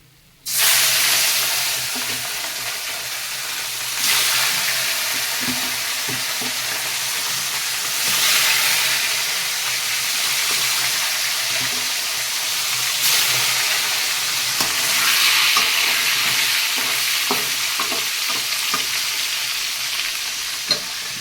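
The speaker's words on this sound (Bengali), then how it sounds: "বাকি মাছগুলো এবার ভেজে নেবো" Tilapia fish fry in a pan with a loud, continuous sizzle that surges several times as the pieces are stirred or turned, with scattered small clicks and pops.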